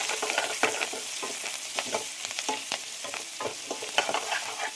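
Onions sautéed with mint and coriander leaves for chicken kurma hiss in a pan with a steady, moderate sizzle broken by frequent spatula scrapes and stirs, heard close with no speech.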